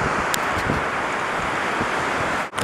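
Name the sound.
Atlantic Ocean waves on the beach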